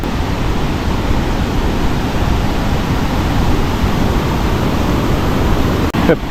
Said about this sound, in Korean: 지금 이제 폭포에 왔는데 그 폭포 규모는 큰 것 같지 않아요.